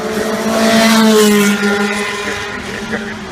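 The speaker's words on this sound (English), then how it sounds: "March 782, back to 1978 then. Formula 2 BMW M12-7 engine, 300 horsepower" A 1978 March 782 Formula 2 car with a 300-horsepower BMW M12-7 engine passes close by at a hill-climb festival, a loud rasping engine note that swells and then fades as it moves away.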